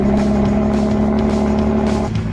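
A used hypercar's engine idles steadily after starting, a loud, close, continuous deep rumble with a strong low hum that dips slightly near the end.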